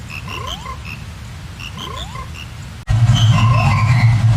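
A frog croaking sound effect: a loud, close croak with a rising, twangy sweep, repeated twice, followed by a louder, denser stretch of croaking over low rumble.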